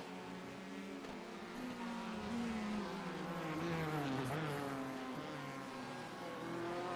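A Ford race car engine in a sim racing game at Laguna Seca, droning at moderate level with pitch climbing and falling through gear changes. The engine sound holds steadily for several seconds with no talk over it.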